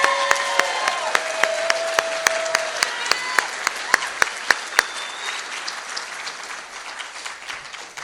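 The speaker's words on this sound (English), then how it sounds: "a large round of applause" Sustained applause from an audience at an evening speaker event, with strong individual claps standing out over a steady crowd roar that slowly eases toward the end.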